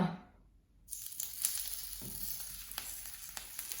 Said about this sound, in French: on va mettre un peu d'huile d'olive dans la poêle. Et on va les cuire un par un